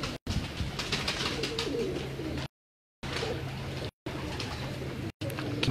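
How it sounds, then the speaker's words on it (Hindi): Pigeons coo in low, repeated burbling calls close by, with a few brief gaps of silence between stretches, no speech. "ये पिछू कबूतर"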